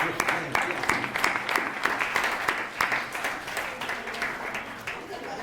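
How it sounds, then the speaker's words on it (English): Audience at a Cass Tech 60th class reunion applauds steadily, a dense wash of many hands clapping with no speech over it, holding fairly even for several seconds. "Again, one more applause."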